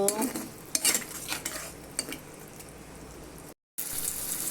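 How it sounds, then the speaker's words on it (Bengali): Spoon scraping and stirring through a wet tomato and green chilli curry in a pan, with a few sharp clinks against the metal and a soft sizzle underneath. "আমি টমেটো আর কাঁচামরিচ দিয়ে দিলাম, এখন একটা লাড়া দিব।"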